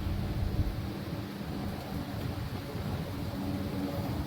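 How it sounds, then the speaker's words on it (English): Gusty wind ahead of an approaching thunderstorm makes a continuous, fairly soft rushing roar outdoors, steady throughout with slight swells and no talking. "All of a sudden getting a little bit of wind."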